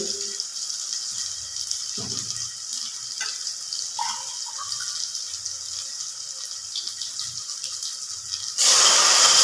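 A mostly quiet stretch with faint clinks, then a sudden loud, steady rush of water being poured into a pan of golden roasted semolina in the final second.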